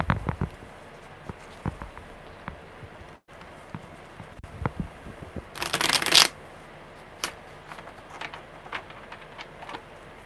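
Tarot cards being shuffled by hand, with soft riffling and tapping through the stretch and one loud, dense burst of riffling near the middle; close and moderately quiet, no talk.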